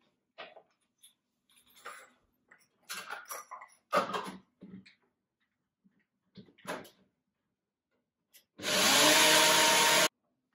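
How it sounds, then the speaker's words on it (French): Mustard seeds ground in an electric grinder: a loud, steady whirring burst of about a second and a half near the end, preceded by scattered clinks and handling noises of jars and lids. "les graines, on va les moudre à la consistance qu'on a envie"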